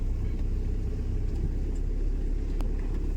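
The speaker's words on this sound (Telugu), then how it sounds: "ఇప్పుడు కార్ ఒక సైడ్ పెట్టేసి" A car moving slowly as it pulls to the side to park near a temple, a steady low engine rumble, close and constant throughout with no voices.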